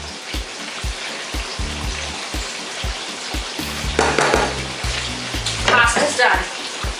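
Food sizzles and crackles steadily in a hot pan, with a few soft knocks and scraping bursts as pieces are flipped, close and fairly loud.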